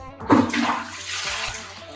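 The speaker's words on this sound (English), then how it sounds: "Give it a flush." A new toilet being flushed during cleaning gives a sudden loud rush of water that settles into a steady swirling drain for the rest of the moment.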